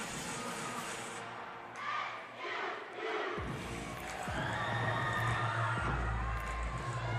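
Gymnastics meet crowd at Southern Utah chanting SUU during a routine, a broad rumble of cheering and shouting with bursts of rhythmic chanting, fairly distant.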